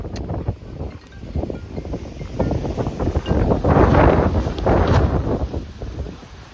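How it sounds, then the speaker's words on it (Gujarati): Strong storm wind gusts roar against the microphone during a windstorm as rain begins, a continuous rough rumble that swells louder midway and stays heavy to the end, with no talking. "ખતરનાક પવન હતો આ વખતે તો"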